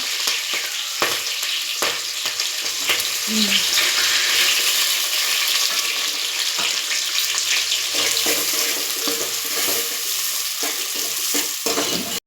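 Green chilies and onions frying in hot oil for an old-style jimmala pulusu, a steady bright sizzle with stirring clatter and occasional utensil knocks throughout, close and continuous without talk.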